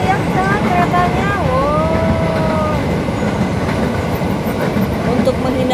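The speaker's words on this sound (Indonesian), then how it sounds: "Nah, keretanya sudah lewat teman-teman." A train rolls past at steady, loud volume with a dense rumble throughout, and a wavering horn-like tone sounds early on before the passing noise continues.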